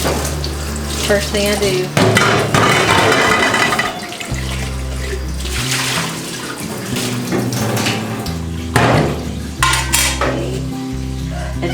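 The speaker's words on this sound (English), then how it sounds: "Your first rinse needs to be with lukewarm water. Just rinse up all the milk." Lukewarm tap water runs into a sink to rinse milk out of a milk pitcher, with splashing and clinks of the pitcher against the basin, continuous and close, and a few brief spoken words.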